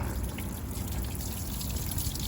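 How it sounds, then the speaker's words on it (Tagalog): Water running continuously from a broken pipe, a steady close hiss and trickle of flowing water with no pauses. "Sayang ng tubig magdamag umaagos ng ganyan yan."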